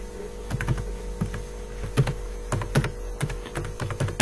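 Turbo Pascal code is typed on a computer keyboard, with sparse, irregular clicks and clacks of individual keys close by over a steady low hum.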